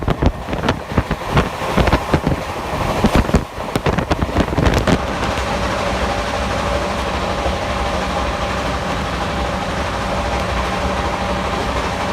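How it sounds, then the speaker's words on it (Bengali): A Rajdhani Express running at high speed fills the carriage with a steady rumble and rushing noise, heard from inside and constant throughout, with a few knocking jolts early on before settling into an even drone. "এই ট্রেনটি সত্যিই অনেক দ্রুত গতিতে চলে।"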